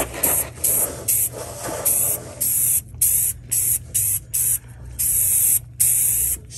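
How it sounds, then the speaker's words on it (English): Flat black Rust-Oleum high performance spray paint hisses from an aerosol can onto a 2018 Silverado 1500 front bumper, a series of loud bursts of varying length separated by short pauses, with no talk. "I'm gonna go ahead and just hit this with some flat black Rust-Oleum high performance and just kind of do the whole thing."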